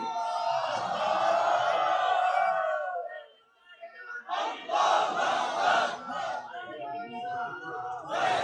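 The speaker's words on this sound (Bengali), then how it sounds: "লিল্লাহে তাকবীর আরশ পর্যন্ত আওয়াজটা পৌঁছাই দাও" A large crowd at a religious sermon gathering roars the takbir battle cry in a long, loud collective shout. After a brief pause, a second burst of massed voices follows.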